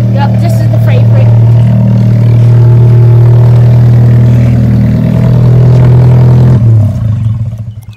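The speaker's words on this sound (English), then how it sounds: "That's loud for a four-cylinder." An Alfa Romeo 4C's four-cylinder engine roars loud and steady at high revs, a deep continuous drone that holds for several seconds before easing off at the end.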